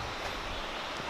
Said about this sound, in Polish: Z daleka słyszę potok.